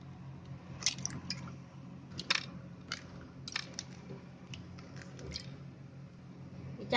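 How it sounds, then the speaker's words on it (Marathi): Four eggs cracked one after another into a bowl, a sequence of sharp shell taps and wet splats with small clicks between them, close and fairly quiet. "त्याच्यामध्ये ही 4 अंडी फोडायची"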